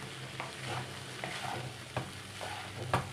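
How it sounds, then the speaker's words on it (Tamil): Capsicum chitranna rice mixed in a hot pan, giving quiet, close scraping strokes of a spoon in an uneven rhythm over a soft sizzle, with no talking. "நல்லா மிக்ஸ் பண்ணிக்கலாம்"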